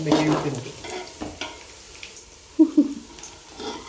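Onions fry in a pan for a home-cooked chicken biryani, a soft sizzle broken by short stirring scrapes and clatters of a spoon, with faint talk early on.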